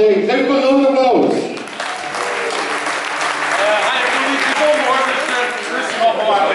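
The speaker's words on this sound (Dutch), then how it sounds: "Geef me een groot applaus" Applause for a shanty choir soloist, starting after a sung or spoken phrase and then rolling on as sustained crowd clapping, fairly loud and steady to the end.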